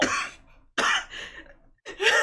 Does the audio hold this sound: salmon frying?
no